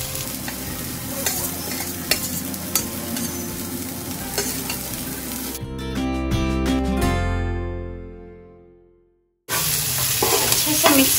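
Carrots and capsicum stir-fried in a pan for vermicelli upma, with a steady sizzle and scraping stirs. The sizzle swells, then fades to silence before resuming.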